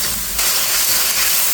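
A spice mixture sizzles as it is sautéed in a pan for a pointed gourd curry cooked with yogurt. It makes a loud, steady, close hiss with no talking.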